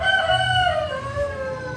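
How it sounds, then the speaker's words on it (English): A rooster crows in a long drawn-out call at a home where chickens are kept, loud and fairly close, with low clucking and farmyard murmur underneath. "And we also have chicken over here."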